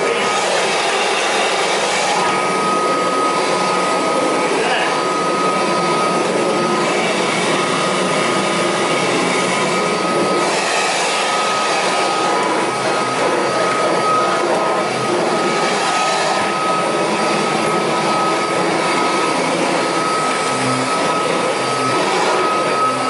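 A Kirby Heritage 2 vacuum cleaner runs continuously, loud and close with a steady whining motor drone and rough brushing noise as it works on stairs.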